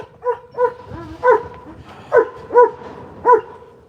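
A dog barks repeatedly in short, sharp bursts, about six barks spaced irregularly, loud and close.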